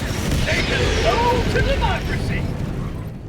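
Explosions and gunfire in the video game Helldivers 2 form a heavy, continuous low rumble of blasts with crackling bursts layered above, loud and dense throughout.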